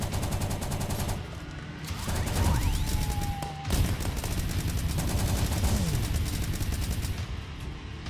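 Rapid automatic gunfire in Starbound, dense bursts of repeated shots with brief gaps, loud and close, running through the whole stretch with a few mechanical clinks and whistling tones mixed in.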